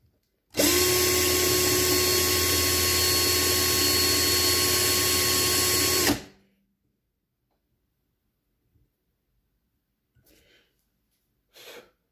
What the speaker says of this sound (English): tell me this drill bit's not sharp enough now